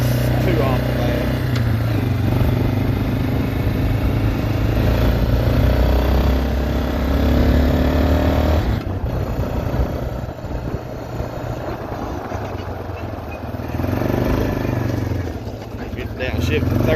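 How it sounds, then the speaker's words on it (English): A rebuilt Yamaha Wolverine ATV engine drones loudly and continuously while riding, revving high through gear shifts, with a noticeable dip in pitch and load midway before climbing again. "It still revs up pretty high when you shift gears."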